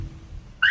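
A 2019 Ram 1500 truck's Clifford 3105 alarm siren, set off by banging on the window, suddenly kicks in at the very end, a loud rising electronic tone after a low rumbling background.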